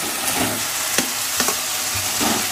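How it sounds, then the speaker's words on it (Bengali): Fried cauliflower meets sizzling spice masala in a pan, giving a loud, dense, continuous sizzle with a few soft stirring knocks and no voices. "মশলা কষানো হয়ে গেছে, এবার দিয়ে দেবো ভেজে রাখা ফুলকপি।"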